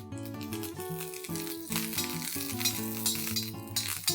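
Curry leaves roasting in a little oil on a tava for a dry chutney, giving a steady close sizzle and crackle, mixed with faint tones throughout.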